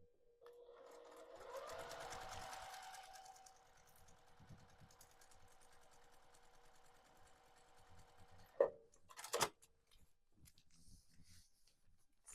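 A domestic sewing machine stitches a foundation paper pieced quilt block, a close whirring run that speeds up and then continues steadily, ending with a few short clicks and handling noises; no speech.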